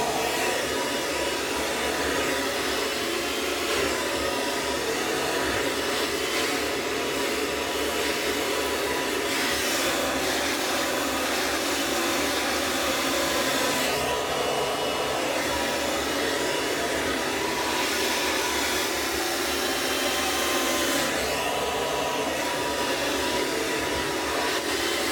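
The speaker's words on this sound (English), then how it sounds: "This is my blow dryer from work" A work blow dryer runs continuously while hair is dried with a round brush, a loud steady whooshing roar close up, with slight shifts in tone as it moves.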